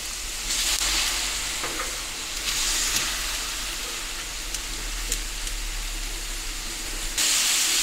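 Pork belly sizzles and crackles steadily on a Pit Boss Ultimate Griddle, a continuous close hiss of frying fat with occasional small pops.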